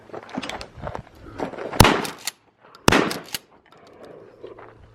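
Shotgun blasts fired at clay targets outdoors: two sharp, loud reports about a second apart, each followed by brief echoing rumble, with quieter handling noise and movement around them.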